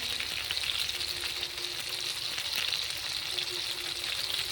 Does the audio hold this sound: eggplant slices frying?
yes